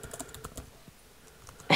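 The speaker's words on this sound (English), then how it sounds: "How can you keep typing to look it up?" Quick clicking keystrokes on a computer keyboard, a rapid burst followed by a few scattered taps, ending with a sudden louder noise.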